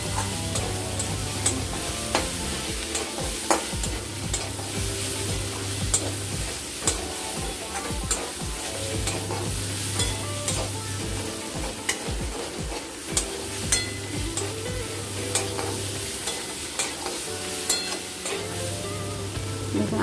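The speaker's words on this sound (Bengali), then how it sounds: "দিয়ে এর সাথে আমরা ভালো মতো করে একটু কষে নেব" Potatoes and pointed gourd sauté with Kashmiri chili powder and spices for a fish charchari, a steady sizzle broken by repeated scraping stirs of a spatula against the pan, with no talking.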